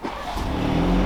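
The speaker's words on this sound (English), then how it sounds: "and then we start up the car," A 2021 BMW 430i Convertible's engine turns over and settles into a steady low hum, close by, rising slightly as it runs.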